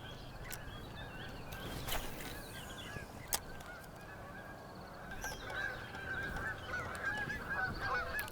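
A good-sized flock of birds flying in to land over water during a bass fishing outing, heard as faint, distant goose-like honking calls scattered over a steady outdoor background hiss.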